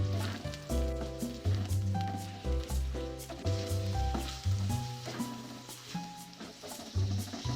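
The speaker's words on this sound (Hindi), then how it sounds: "कलेजी का हमारा कलर चेंज हो जाए इतनी देर हमें भूनना है इसे मीडियम फ्लेम पर मैं भूनूंगी" Beef liver (kaleji) frying on a tawa over a medium flame, loud close sizzling with repeated scraping stir strokes in an uneven rhythm, no voices.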